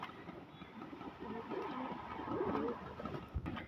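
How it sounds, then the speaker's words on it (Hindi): Pigeons leaving their coop, with soft cooing and fluttering over a steady background rumble, moderately close and continuous, with a brief louder bump near the end. "ये देखो भाई अपने सारे कबूतर जो है बाहर निकल रहे हैं अभी"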